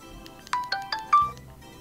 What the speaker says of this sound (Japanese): 電話かけていきたいと思います